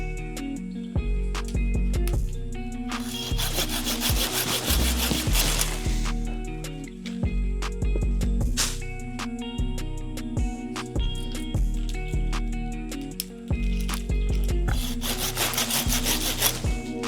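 A Silky Zubat hand saw cuts through oak limbs during outdoor trimming, making steady rhythmic back-and-forth rasping strokes that sound close and loud, with a few brief pauses and occasional surges in intensity.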